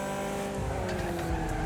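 Race cars in the video game Wreckfest braking into a tight corner on the narrow MotorCity circuit, engines droning loudly with tire squeal and skidding layered over the roar.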